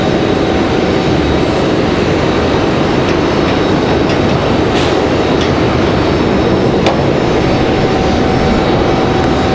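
An American Airlines airliner passes at Raleigh-Durham, a loud, unbroken engine roar filling the air close by, with a faint steady tone running through it.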